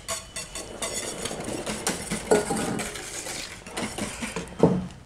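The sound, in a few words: stirring the ice cream milk mixture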